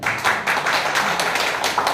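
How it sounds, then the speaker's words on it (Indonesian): A church congregation claps hands together at a sermon, a dense, steady patter of many palms filling the space throughout, close and loud with no talking over it. "maka butuh tepuk tangan sekali lagi."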